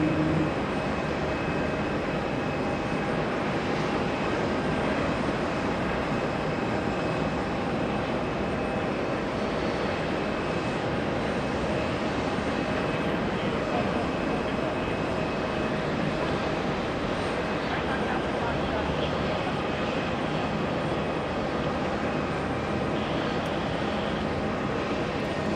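A Delta Airbus A330-900 arriving from Amsterdam at JFK airport gives a steady, loud jet engine roar that holds evenly throughout, broad and continuous with no talking over it.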